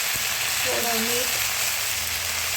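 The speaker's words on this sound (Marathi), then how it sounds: "भाजी चांगली परतून घ्यायची" Fenugreek leaves sauté in a pan with browned garlic and a pinch of salt, a steady close sizzle and crackle with brief stirring, while a voice murmurs faintly partway through.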